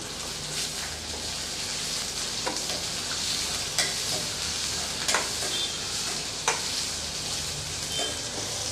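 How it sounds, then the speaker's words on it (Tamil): Long-sliced onions sauté in a pan for potato poori masala, a steady close sizzle broken by occasional sharp spatula clicks and scrapes, with no talking. "இப்போ வெங்காயம் நல்லா வதங்கிட்டு இருக்கட்டும்."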